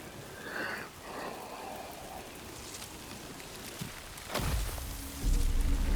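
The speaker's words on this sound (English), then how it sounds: "This Titanfall rain." Steady hiss of rain falling in the video game Death Stranding 2, fairly loud and continuous, with a deeper rumble and a thud near the end.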